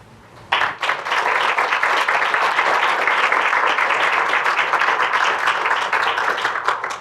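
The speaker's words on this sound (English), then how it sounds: "Please stand for a moment so we can applaud you." A lecture audience applauds two professor emeritus presenters with steady, dense clapping that starts abruptly and holds at full strength, loud and close, with no voices over it.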